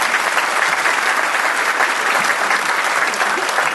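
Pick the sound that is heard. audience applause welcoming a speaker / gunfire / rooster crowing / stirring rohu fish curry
audience applause welcoming a speaker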